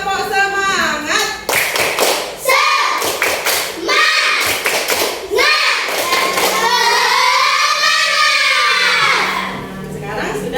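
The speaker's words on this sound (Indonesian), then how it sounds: "kita tepuk semangat dulu ya" A primary school class claps a rhythmic spirit clap in a classroom, bursts of hand claps in patterned groups mixed with children's voices chanting along, loud and close.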